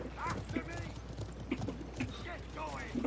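Horse hooves clip-clop steadily in a video game (Stronghold) battle with horse archers, beneath a busy mix of voices and game noise, fairly faint under the talk.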